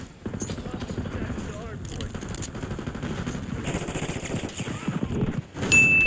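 Gunfire rattles in a Call of Duty Black Ops 6 multiplayer match, with rapid shots under constant talk and an engine-like drone. A louder burst comes near the end.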